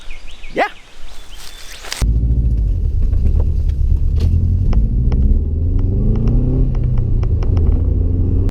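A WRC3 rally car on a Rally Australia recce stage approaches and passes, a rising rumbling engine roar after a brief quieter stretch with a dog barking, sharp clicks and pops over the drive-by.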